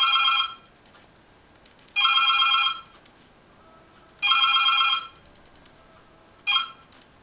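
A Samsung Galaxy Y (S5360) running a custom Windows Phone 7.5 ROM plays a bright tonal chime in four separate bursts, each about a second long with pauses between, the last one shorter, against a quiet background.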